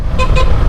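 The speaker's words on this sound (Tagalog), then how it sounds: "wow umalingaw mo dito pag bumusina ka" Two short car horn honks in quick succession, loud and close, over a steady low rumble of road and engine noise.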